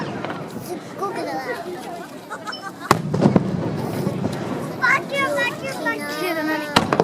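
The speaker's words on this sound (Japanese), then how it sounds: "見える？ 花火。" Fireworks over the sea at a summer festival at Tomari in Yuriham, boom and crackle at a distance, with sharp bursts standing out, under crowd babble and children's voices chattering nearby.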